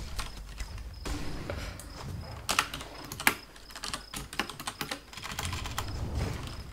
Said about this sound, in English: Stop typing!